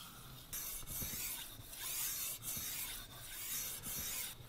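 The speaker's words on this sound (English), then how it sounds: "I went straight to the 3000 grit Chocera Waterstone" Knife blade stroked across a 3000 grit Chocera waterstone, a steady close rasping rub in repeated back-and-forth passes with brief pauses between strokes.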